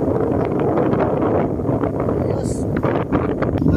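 Strong wind buffets the microphone on a Palawan beach during a land tour, a loud continuous rumble with gusty surges, a short spoken word briefly heard over it.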